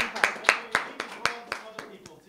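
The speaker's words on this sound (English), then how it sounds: "Big round of applause" A small group claps in a steady, even rhythm at a live storytelling event, each sharp clap distinct and fairly close, gradually tapering off.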